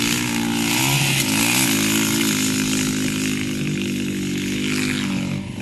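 A dirt bike engine revving loudly while being ridden, a close, continuous buzzing drone that rises and falls in pitch as the throttle changes.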